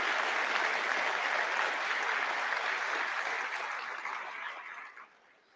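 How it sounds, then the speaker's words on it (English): Audience at a University of Galway graduation ceremony applauding, a dense steady wash of many hands clapping that holds evenly before fading out near the end. "And yes, you can clap."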